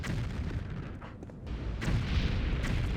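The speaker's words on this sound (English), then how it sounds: "Oh no, fire Atronax." A fire atronach attacks in the Morrowind video game with rumbling, booming fire blasts. A soft whoosh comes first, then the bursts build into a sustained roar that stays loud and close.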